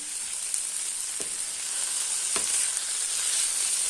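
Okra ragout with hot pepper and garlic sizzles steadily in hot oil, a continuous bright frying hiss broken by a couple of soft stirring scrapes, with no talking.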